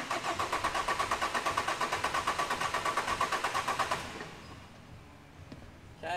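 A car engine cranks for a relative compression test, its starter giving about twenty rapid rhythmic chugs for four seconds, loud and close, then stopping without firing into a quiet hiss.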